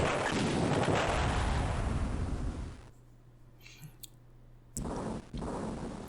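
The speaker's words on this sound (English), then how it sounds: "I love these little PNG explosions." Small explosions from the Game Boy Advance game Drill Dozer, loud dense bursts of blasting noise that fill the opening seconds, drop to near silence, then return in shorter booming hits.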